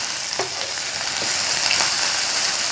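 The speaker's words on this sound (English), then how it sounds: "Fry it for a while." Steady loud sizzling of food frying in a hot pan for ramen, with a few faint clinks and scrapes of stirring.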